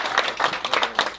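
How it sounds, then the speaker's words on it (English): Wedding guests clap during the reception speeches, a brief burst of scattered hand claps close by with no voices over it. "Another quick round of applause for Lee and Amber"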